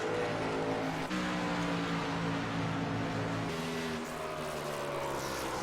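Race cars lap the track at Homestead in a continuous engine drone, steady and fairly loud, with pitch shifting as cars pass.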